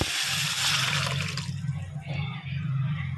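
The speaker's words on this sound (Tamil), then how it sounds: "கொஞ்சம் தண்ணி மட்டும் ஊற்று." Water pours steadily into a pot of tomato rasam, a close rushing splash that shifts and eases partway through, with a low background hum and no talking.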